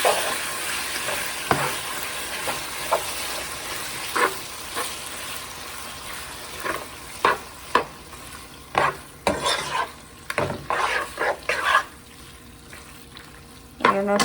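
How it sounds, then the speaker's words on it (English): Liver frying in a pan for hígado encebollado is stirred with a utensil, giving a continuous sizzle broken by frequent sharp scrapes and clacks of stirring in an irregular rhythm, close and fairly loud. "And then go ahead and stir."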